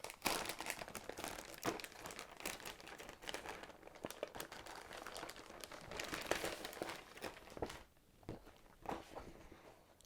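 Plastic bag holding parts for a Kyosho Inferno MP10 TKI2 RC car kit being handled and torn open, with close crinkling and rustling bursts that come and go over ten seconds, growing quieter toward the end.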